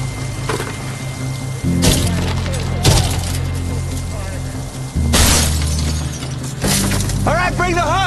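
Heavy hammer blows crash against car window glass, several sharp shattering impacts over a steady mechanical rumble, with voices in the background.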